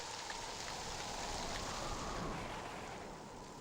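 Rain falls steadily as a soft, even hiss of drops, faint and continuous throughout, with no voices.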